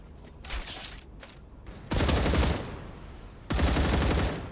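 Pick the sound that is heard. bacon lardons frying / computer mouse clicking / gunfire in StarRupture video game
gunfire in StarRupture video game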